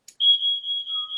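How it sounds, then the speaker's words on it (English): A household smoke alarm with a dead battery gives one short, loud, high-pitched electronic beep that holds steadily for about a second, with no talking over it. "that's my smoke alarm that keeps going off because I think the battery is dead."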